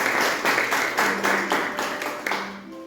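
A church congregation at a Wednesday prayer service claps together in a rhythmic, evenly spaced beat of about six strong pulses, with a sustained organ or keyboard tone underneath before the clapping fades.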